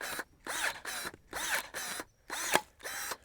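A cutting tool works through a thick willow branch nearly two inches across, making repeated loud ratcheting, grinding strokes in a steady back-and-forth rhythm, each one separated by a short pause.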